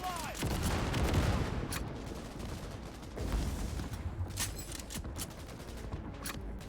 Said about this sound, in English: Big boy with the big machine gun.